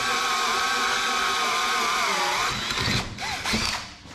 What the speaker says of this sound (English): It's not the greatest countersink, but it works.